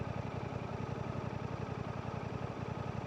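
A Suzuki GSX 8T motorcycle engine with its stock exhaust runs at a steady idle, a fairly quiet, even mid-pitched thrum with a regular pulsing rhythm and no talk over it.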